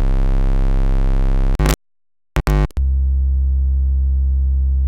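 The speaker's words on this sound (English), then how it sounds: "The next output is a sine wave." A steady, pure sine tone from a kNoB technology η Carinae VCO synthesizer oscillator hums, cut by a short silent gap with a few abrupt clicks before the tone resumes, lower and unchanged.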